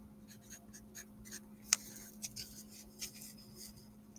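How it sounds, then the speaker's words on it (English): Pencil or pen writing a name on paper in a classroom art lesson, a faint, close scratching with soft irregular strokes and a few light ticks, heard alone over quiet room hum. "we always write our name somewhere that the teacher can see it"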